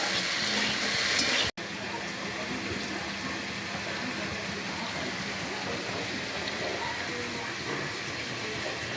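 Bori lentil dumplings and drumstick stems frying in hot oil, a dense crackling sizzle that runs steadily throughout, close and loud, with a brief cut near the start.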